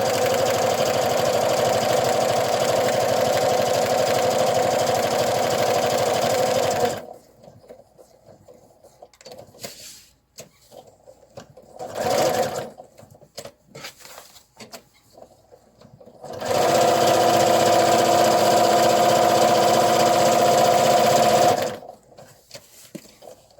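A sewing machine stitches velcro onto a PUL snack bag in two long, steady bursts of rapid needle clatter, with a quiet pause and a brief whir between them.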